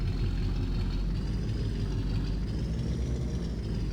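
Old GMC truck engine running in Farming Simulator 22, a steady low rumbling drone held evenly throughout with no voices.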